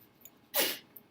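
One short, sharp human sneeze bursts out at close range and fades within a fraction of a second, standing alone against a quiet room.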